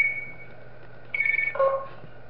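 Phone call ringing in the Tubbyland horror video game: a steady electronic ring tone followed by a short two-note chime, moderately loud over a low background hum with no talk.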